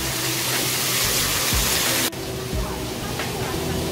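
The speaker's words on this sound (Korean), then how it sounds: "시원한 폭포수가 내리고" A waterfall in the tropical greenhouse of Seoul Botanic Park pours as a steady, full broadband rush, close and loud, softening slightly partway through.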